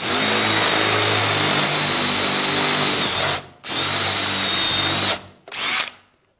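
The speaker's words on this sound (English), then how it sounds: "Make sure your drill's nice and straight and upright." A power drill whines loudly and steadily, cutting out briefly twice near the end before spinning up again for a short final burst.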